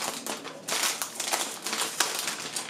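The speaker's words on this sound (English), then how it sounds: "I'm going to take out this plastic wrapping." Plastic wrapping is pulled off a YUNZII mechanical gaming keyboard, giving loud, close crinkling and crumpling bursts in irregular rhythm with brief pauses between them.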